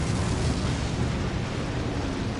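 Barrels exploding after being shot in Resident Evil 4, a dense, loud rumbling blast with heavy low-end roar sustained for a couple of seconds.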